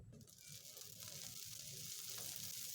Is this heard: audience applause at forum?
no